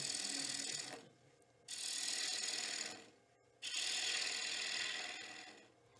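A turning tool cuts into a wooden bowl blank spinning on a lathe, producing loud, steady hissing bursts of cutting noise in three long passes with short quieter gaps between them.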